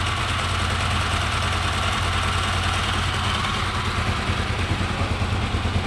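Kawasaki KLE 500 motorcycle engine idling steadily without throttle after a starter one-way clutch replacement, a continuous close, loud low rumble with a faint knocking pulse and no talk.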